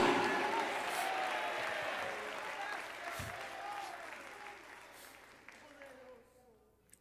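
Applause from a church congregation fills the space, steady at first and then gradually thinning and fading out over several seconds, with some voices mixed in.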